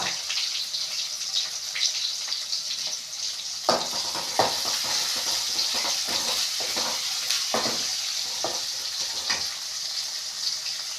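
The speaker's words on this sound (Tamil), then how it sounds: "இப்போ கட் பண்ணி வச்சுருந்த வெங்காயத்தை போட்டுட்டு வதக்கிக்கலாம்" Chopped onions sizzle and crackle steadily in a hot pan with fennel, poppy seeds and star anise for a Tamil chicken curry, with a few clinks of stirring breaking through the even frying hiss.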